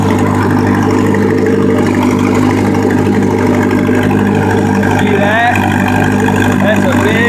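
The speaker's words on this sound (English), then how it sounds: "We're bogging this tractor down a bit." A tractor engine labours and bogs down while pulling a large stump on a farm, a loud steady engine drone with rising strain, while a person talks over it.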